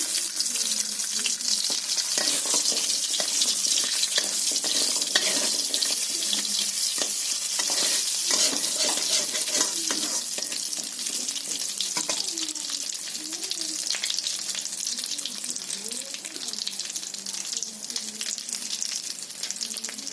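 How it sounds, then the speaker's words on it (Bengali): Homemade lentil dumplings (bori) frying in oil in a wok make a loud, continuous, close hissing crackle that fills the whole stretch without letting up. "আমি এখন বড়িটা ভেজে নেব।"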